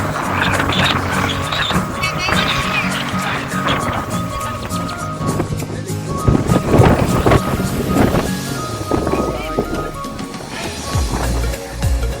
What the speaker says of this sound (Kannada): ಗಾಳಿ ಜೋರದ